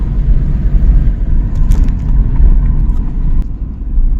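Toyota Land Cruiser engine with ignition misfires, heard idling from close by as a loud, low, rough rumble with uneven pulsing and a few faint clicks, no talking.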